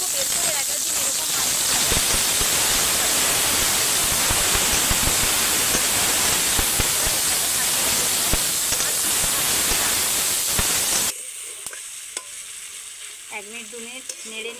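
Marinated chicken for homemade chicken rolls fries in a hot pan with a loud, steady, dense sizzle for about eleven seconds, then the sound drops to a much quieter scene where a voice can be heard.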